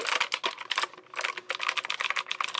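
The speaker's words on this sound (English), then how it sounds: "So I got a mechanical keyboard because I love that sound." Mechanical computer keyboard being typed on up close, a dense run of crisp clacking keystrokes in quick uneven bursts with a brief pause near the middle, no voices.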